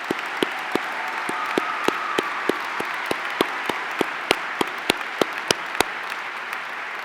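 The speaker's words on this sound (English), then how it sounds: "Let's have a round of applause for all of these outstanding investigators." Audience applause at a university diploma ceremony: a steady wash of many hands clapping from a large crowd, with a few sharper close claps standing out at a regular pace over the seven seconds.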